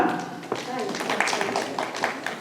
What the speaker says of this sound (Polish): Duże brawa dla Huberta